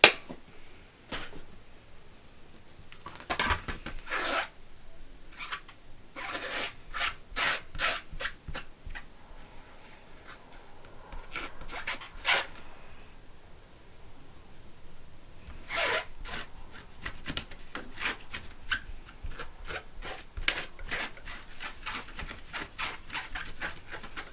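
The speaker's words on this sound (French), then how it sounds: "Tac, passer un coup dessus, le tampon." An ink stamp pad is rubbed over a paper craft scrapbook page in repeated short scrubbing strokes, close and dry, in bursts separated by pauses.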